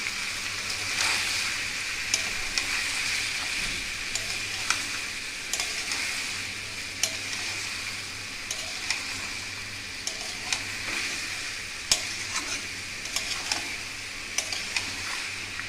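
Jackfruit masala fries steadily in a pan after a splash of spice-rinse water, with a constant close sizzle and a scatter of sharp ticks and scrapes from stirring, and no talking.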